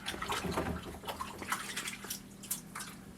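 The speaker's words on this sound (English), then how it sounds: "rinse my hands real quick" Water runs from a kitchen tap while hands are rinsed after grinding meat for cheddar garlic bratwurst, a steady close splashing wash with small drips and no talk.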